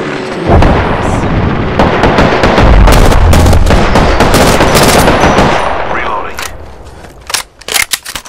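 Combat in the video game Apex Legends with a frag grenade thrown: a dense, loud stretch of explosive blasts and rapid gunfire that holds for several seconds, then thins to a few sharp separate bangs at the end.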